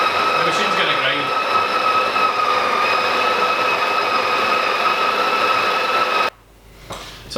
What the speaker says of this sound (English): it's just a case of popping it in the grinder and pushing. The machine's going to grind.